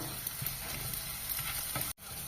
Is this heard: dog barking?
no